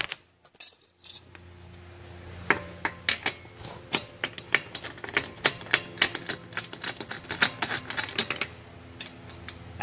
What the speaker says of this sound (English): I'm going to use this with my breaker bar.